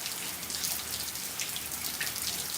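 Steady outdoor rain patters densely and evenly, a close, continuous hiss of drops hitting surfaces with no voices.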